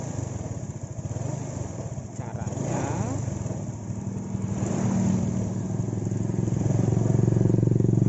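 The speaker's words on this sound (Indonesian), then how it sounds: "Bagaimana saya bisa menghentikan motor ini?" Motorcycle engine running steadily throughout, a loud continuous drone that builds slightly toward the end, with a brief spoken word early on.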